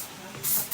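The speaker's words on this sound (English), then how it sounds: "And then I'm going to use some texture spray." Texture spray misted onto hair while a voluminous wedding-style updo is being shaped, heard as two close, sharp hissing bursts in quick succession, the second cut off at the end.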